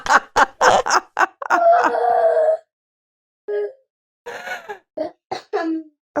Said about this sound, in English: that was my little girl's dramatic yawn